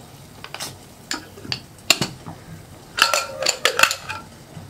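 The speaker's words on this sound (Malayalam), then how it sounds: "അപ്പോൾ നമ്മുടെ കുക്കറിൻ്റെ കംപ്ലീറ്റ് പ്രഷർ പോയിട്ടുണ്ട്. നമുക്കൊന്ന് തുറക്കാം." Metal clanks and clinks as the lid of a pressure cooker holding green peas curry is handled and opened after its pressure is released, several sharp knocks in a short burst near the end.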